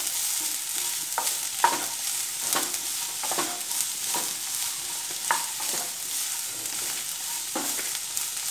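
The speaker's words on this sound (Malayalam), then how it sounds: "ഇനി നമുക്ക് പാവയ്ക്ക അതിലേക്ക് ആദ്യം ചേർത്ത് കൊടുക്കാം. ഇനി നന്നായിട്ടൊന്ന് ഇളക്കി കൊടുക്കുക." Bitter gourd being stirred as it fries in oil in a pan, with steady sizzling and periodic scraping strokes of the spoon repeating every second or so, close and moderately loud, no talking.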